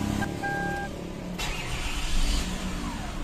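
A Toyota Camry V6 engine cranks and starts with a brief whine, then settles into a smooth, steady idle with a low rumble heard close by.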